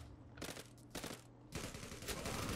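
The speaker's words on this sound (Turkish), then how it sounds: "Bu tarafta bir çatışma var." Distant automatic gunfire rattles in bursts during a firefight in the online shooter Zula, with several rapid volleys separated by short gaps, fairly faint and unaccompanied by talk.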